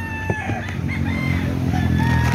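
Chickens and a rooster in a backyard chicken coop, with a steady chorus of clucking and crowing close by, and a faint voice in the background.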